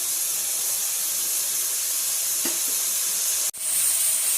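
Two medium onions and three tomatoes sautéing in a pan for sambar, giving a steady, even sizzling hiss with a faint tap near the middle and a brief drop in level before the hiss resumes.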